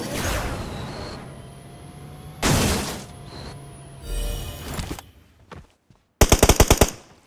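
PUBG Mobile gunfire erupts in loud bursts, with sharp single shots early on and a rapid automatic volley near the end, set against ambient game noise.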